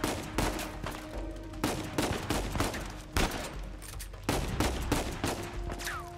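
Rapid bursts of gunfire in the video game Uncharted 4 crack out in loud clustered volleys, several rounds per burst, with short pauses between the bursts and no voices.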